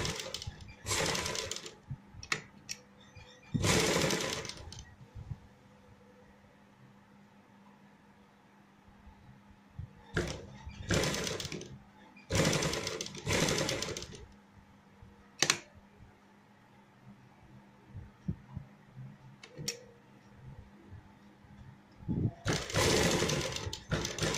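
Sewing machine stitching a designer neckline on fabric, repeated bursts of rapid whirring stitching, some short and some a second or two long, separated by quiet pauses with small handling clicks.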